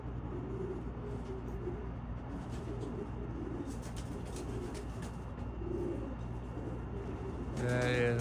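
White racing pigeons cooing close by, soft low repeated coos in a steady rhythm over a faint background rumble, with a brief louder sound at the end.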